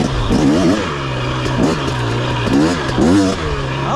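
A 2023 KTM 250 XC two-stroke dirt bike revs hard under throttle, loud and close, its engine pitch rising and falling in repeated bursts.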